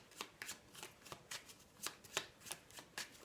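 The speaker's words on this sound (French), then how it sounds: "allez, on va tirer 5 cartes" Tarot cards being shuffled and drawn by hand, a steady series of quiet, crisp riffling flicks at a fairly even rhythm, close and faint.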